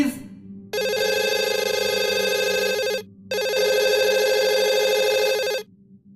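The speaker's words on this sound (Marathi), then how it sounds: "फोन घेतेस जाई प्लीज" A telephone rings indoors in two long, loud electronic bursts separated by a brief gap, close and clear with nothing else over it.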